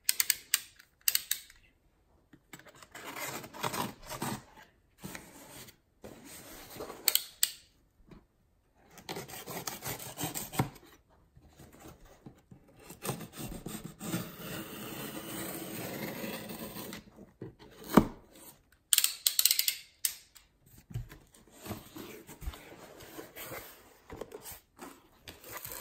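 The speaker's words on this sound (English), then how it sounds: "Some friends would like to hear the plastic sound." Plastic packaging crinkled and rubbed while a box is opened, close and quiet with irregular scratchy rustles and handling noises separated by short silences.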